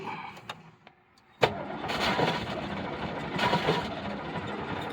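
A 1975 Ford Granada, long neglected, cranks briefly after a quiet start, then catches and runs with a steady, rough engine roar close by, swelling slightly partway through, with no talk.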